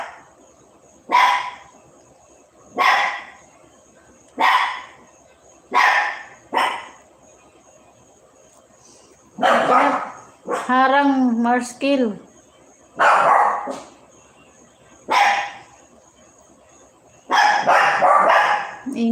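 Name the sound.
dogs barking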